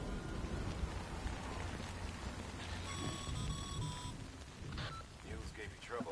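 Steady rain falls in the game Death Stranding, a dense hiss of drops throughout, with a brief high electronic tone partway and some game voice or effects mixed in.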